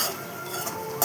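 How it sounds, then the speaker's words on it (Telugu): Onion, green chili and curry leaves frying in oil for a drumstick and tomato curry: a steady close hiss and sizzle with light utensil clinks, ending in a brief louder scrape. "ఉల్లిపాయ, పచ్చిమిర్చి, కరివేపాకు ఇవన్నీ బాగా వేగాలి ఆయిల్లో."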